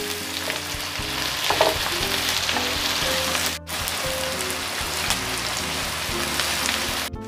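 Thinly sliced shallots and garlic sauté in hot oil, a continuous close sizzle with stirring scrapes and one brief break midway.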